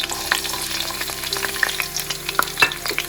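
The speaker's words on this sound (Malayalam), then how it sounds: "നമുക്ക് കട്ട് ചെയ്ത് വെച്ചിരിക്കുന്ന വെളുത്തുള്ളിയും പച്ചമുളകും കൂടെ" Chopped garlic and green chillies sautéing in oil over low heat, a close, steady sizzle with scraping stirs and occasional pops, no voices.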